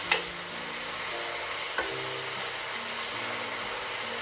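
Vegetables for a flathead fish stir fry sizzle steadily in a hot pan, a constant bright hiss with a couple of sharp clatters of stirring near the start and middle, close and moderately loud with no talking.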